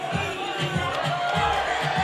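A crowd at a kickboxing match cheers and roars in repeated swells, loud and broad, with a hint of voices rising above the noise.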